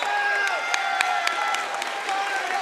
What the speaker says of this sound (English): And you can hear the appreciation from the crowd here.